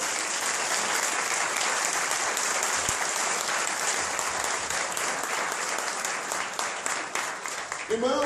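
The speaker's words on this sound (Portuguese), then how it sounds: "Vamos aplaudir a palavra do Senhor." A church congregation at a Cerco de Jericó gathering applauds loudly and steadily, a dense wash of many hands clapping for about eight seconds before tapering off at the end.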